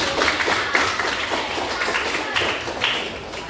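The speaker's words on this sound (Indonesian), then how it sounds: "beri tepuk tangan untuk dia" Students in a classroom clap for a classmate in a loose, uneven round of hand claps with distinct individual slaps rising and falling.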